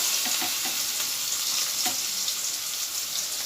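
Banana flower pakora batter of gram flour and cornflour frying in oil in a kadai, a loud, dense sizzling hiss close by with scattered pops, steady throughout.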